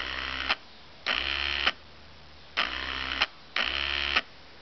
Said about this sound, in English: That's the motor going, so it's the whole system.